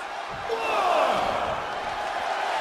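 A wrestling arena crowd in WWE 2K23 roars in a broad, steady swell of cheering that peaks briefly, with faint commentary underneath.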